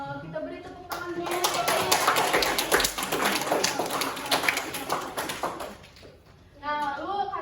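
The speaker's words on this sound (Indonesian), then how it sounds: "Kita beri tepuk tangan dulu." Students in a classroom break into dense, lively applause lasting several seconds, close and loud, with a teacher's voice heard before and after.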